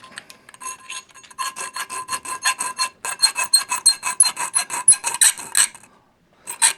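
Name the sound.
Kyodra file rasping metal shield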